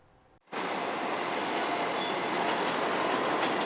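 A New York City subway train runs on the rails: a loud, steady roar with faint clatter starts abruptly after a short quiet lead-in and holds evenly until it cuts off at the end.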